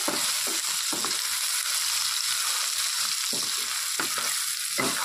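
Onion stalks fry in melted fish oil with a little salt and turmeric, a steady close sizzle and crackle with intermittent scraping stir strokes throughout.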